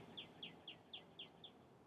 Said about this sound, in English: We can hear the sounds of birds now.